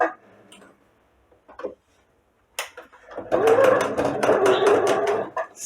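Sewing machine stitching a hooded lion towel, a fast rattling run of needle strokes in the second half after a few short bursts and quiet pauses, close and fairly loud.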